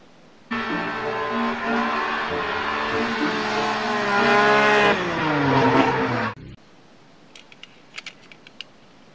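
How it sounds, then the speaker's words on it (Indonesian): A race car revs loudly with a rising and falling engine whine and harmonics for about six seconds, then cuts off abruptly, leaving faint clicks and taps. "Mobil balap."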